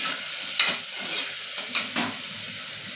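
Coriander being stirred into farali moraiya khichdi in a pressure cooker, a spoon scraping in a few soft, brief strokes over a faint background sizzle, close and quiet.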